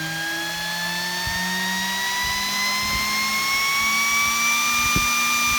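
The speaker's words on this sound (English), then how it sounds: "the motor goes from 0 RPM all the way to the max, and it makes everybody nervous here" A 48V brushless DC server fan motor spins up toward maximum speed, its steady whine rising gradually in pitch and growing loud, with faint background bumps.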